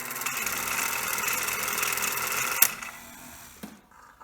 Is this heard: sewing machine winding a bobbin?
yes